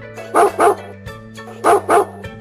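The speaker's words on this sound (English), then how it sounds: "D is for dog." A dog barks in two quick double bursts, woof-woof then woof-woof, loud and close over a steady musical backing of a children's alphabet phonics song.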